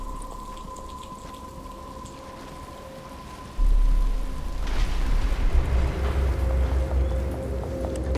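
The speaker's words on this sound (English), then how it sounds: "But it's starting to rain." Heavy rain pours steadily in a Batman: Arkham Asylum game scene, growing louder partway through as the downpour intensifies, with a low rumble beneath and a faint tonal hum early on.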